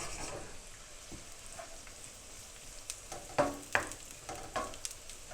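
Garlic and onion fry in a pot, sizzling quietly and steadily while a wooden spoon stirs and scrapes through them in several short, distinct strokes.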